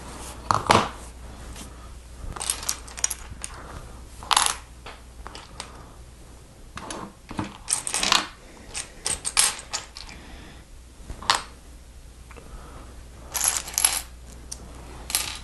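Lego bricks, including 1x1 round bricks and Technic pins on a plate, being handled, sorted and pressed together, with sharp plastic clicks and rattling clatters in irregular bursts, close and fairly loud, with quiet pauses between.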